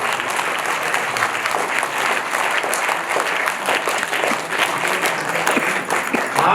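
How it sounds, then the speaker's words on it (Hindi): Sustained applause from a crowd, many hands clapping continuously at an even, lively level for several seconds, at an Arya Samaj annual festival gathering in Agra, India. "ईमानदारी से ताली बजाओ,"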